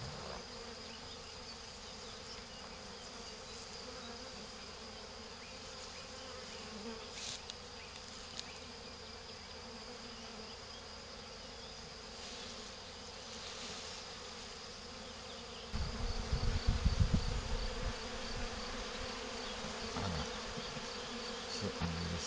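A honeybee swarm being hived into a frameless divisible Layens hive hums as a steady, dense buzz throughout, fairly faint, with a louder burst of close wingbeats near the end.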